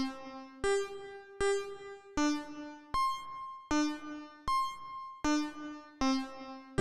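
Mutable Instruments Stages modular synth running a sample-and-hold sequence, stepping through sustained tonal notes in an even rhythm, each held until the next gate, about nine steps, clear and alone with no talk.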